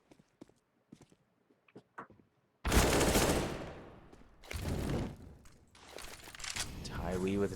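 Rapid bursts of Counter-Strike gunfire during an ESEA Premier match at the B site, loud and dense in several volleys after a quiet opening with faint clicks and footsteps.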